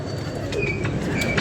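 Pigeons kept for flying give soft, low cooing in a brief, steady murmur, with faint chirps and background hiss and no speech.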